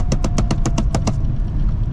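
Volkswagen Mk2 Jetta accelerating hard through the gears, a loud close engine roar with a rapid train of eight sharp rhythmic pulses, like shifts or exhaust pops, over the first second, then a steady strained drone.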